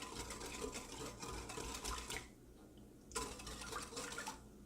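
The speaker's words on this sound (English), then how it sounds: "I'm just going to whisk that together real well until it's well combined." Marinade whisked in a bowl, a fast continuous scraping and splashing texture with a short lull midway before the whisking resumes, close and fairly loud.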